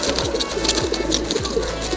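Pigeons cooing inside a loft: a series of soft, low repeated coos close by, layered over a steady background hum with faint higher chirps.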